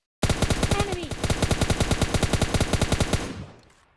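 Rapid automatic gunfire from a battle royale video game squad fight, a tight burst of evenly spaced loud shots running about three seconds before cutting off into a short fading tail.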